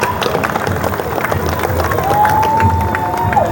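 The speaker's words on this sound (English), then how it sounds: "A big round of applause for Dr. Ian Brighthope." A rally crowd in Melbourne cheers and applauds, a steady wash of clapping and shouting voices with a whistle rising near the end, heard fairly close.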